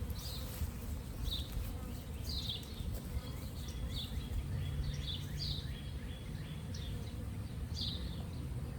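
Package bees buzz in a steady, faint drone during a hive installation, with birds chirping in the background.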